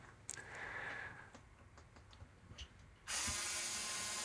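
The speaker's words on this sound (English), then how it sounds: "we have to remove some hidden screws under the stand." Hidden Phillips-head screws are removed from under the stand of a Sky Glass TV, heard as a handful of close, quiet ratcheting clicks and ticks from a screwdriver, followed by a sudden loud burst of mechanical noise at the end.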